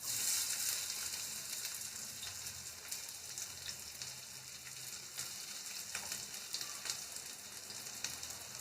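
Chopped onion and garlic frying in a pan, a steady close hiss and crackle of oil continuing without pause, with no voices.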